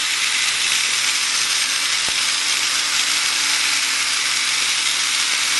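Electric nail drill with a filing bit working on a fingernail during gel nail preparation, giving a steady, high-pitched continuous whir that holds evenly throughout without pauses or voices.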